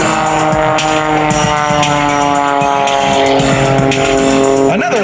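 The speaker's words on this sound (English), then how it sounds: "Standing on the rubber, just drifting the aircraft through the New York skies." Aerobatic propeller aircraft performing at the 2021 New York International Air Show, its engine a loud steady drone with layered harmonic tones throughout, shifting pitch near the end as it maneuvers.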